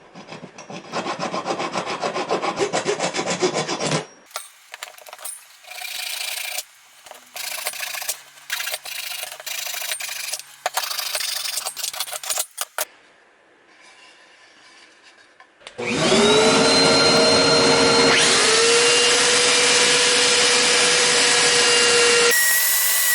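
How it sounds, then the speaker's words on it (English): Sanding a handmade wooden box with glued-in splines, heard as steady rubbing and rasping strokes in loud bursts, with a sustained high-pitched power-tool whine taking over near the end. "So that sanded out pretty nicely."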